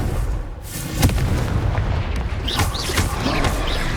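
Bombarda and Confringo spells explode in Hogwarts Legacy, a run of deep booming blasts and bursts over a dense, continuous rumble of game effects, loud and close with no speech.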